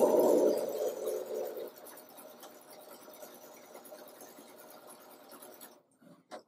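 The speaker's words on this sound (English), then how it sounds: "So as you're stitching along, you're going to watch and make sure you can see that little line on the stitch plate, and you're going to just sew that seam." A BERNINA sewing machine stitches a seam on a triangle table runner, its quiet steady mechanical whir running close and continuous before cutting off near the end, with no talk.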